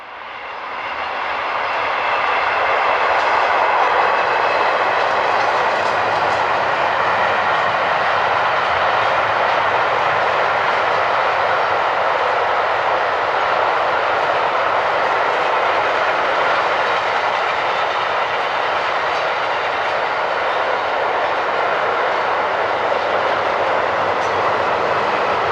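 DB Schenker class 185 electric locomotive 185080 hauls a freight train past, a loud, steady rumble and roar of wagons that swells in over the first seconds and holds near and constant throughout.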